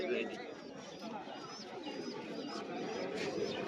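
Local pigeons at a village pigeon market in Tebaria, Natore, cooing and calling faintly beneath steady nearby human talk and general market bustle.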